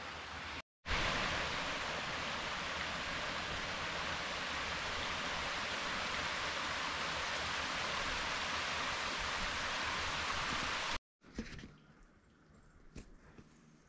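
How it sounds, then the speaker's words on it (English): A small creek on Mount Benson in early spring runs steadily close by, a continuous rushing wash of water that cuts off abruptly near the end, leaving quiet outdoor ambience. "Nice little creek running in behind me."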